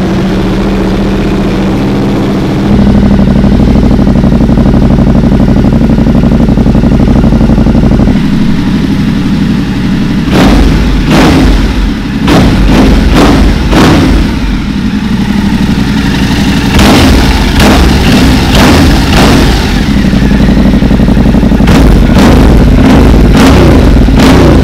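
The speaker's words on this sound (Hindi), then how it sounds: "And finally a small sound test with the GR motto exhaust." A Yamaha Tenere 700 motorcycle fitted with a GR Moto exhaust idles loudly and steadily, then gets a series of sharp throttle blips in the second half, heard alone without talk.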